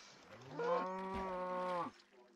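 One long, clear cow moo from a blocky survival video game, moderately quiet and close, rising then holding steady for over a second before cutting off.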